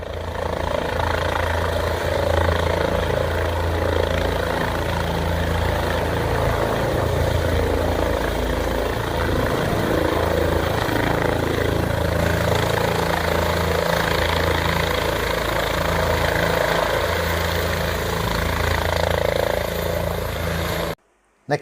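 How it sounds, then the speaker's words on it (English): Steady, loud engine roar with a low rotor throb, continuous and unchanging as a helicopter runs nearby, cutting off abruptly at the end. "Got to watch a couple of helicopters coming and going."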